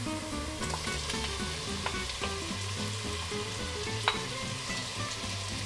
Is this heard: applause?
no